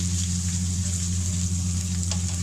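Chicken breast cubes sizzling in a hot pan while being stirred, a steady close frying hiss over a low hum, with no talk.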